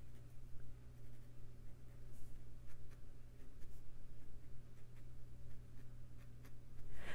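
Pencil sketching a star pattern on paper, a soft, continuous scratchy scraping with brief light strokes and taps, close and quiet over a low background hum.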